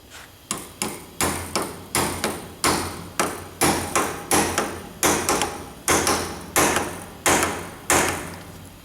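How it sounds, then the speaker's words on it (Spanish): A hammer drives a Torx bit into the long air-mixture screw of a Yamaha Special 250 carburetor with about twenty sharp, evenly spaced metallic taps, loud and close with no talking. "una punta de Torx aquí, golpeo un poco a ver si puede clavar y consigo hacer que gire el tornillo"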